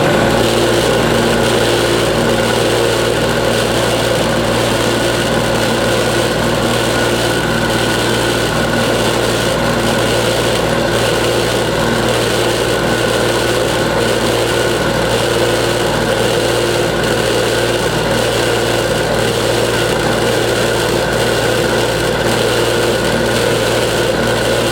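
A rock saw cuts through Mozarkite stone under a clamped lid, giving off a loud, unbroken grinding motor hum that stays constant throughout with no voices.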